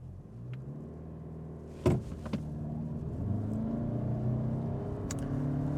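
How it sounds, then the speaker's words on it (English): A 2026 Toyota Camry XSE AWD launches from a brake-torque start on a stretch of road, its engine rumble building steadily into a sustained, loud acceleration after a sharp clunk, heard from inside the cabin with no talk. "let's go ahead and pull up to our usual stretch of road here, which is the same road we tested the Camry on last time, and do an acceleration test"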